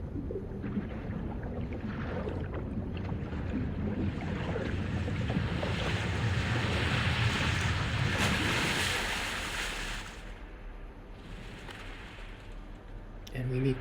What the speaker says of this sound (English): The waves are gently washing over the body.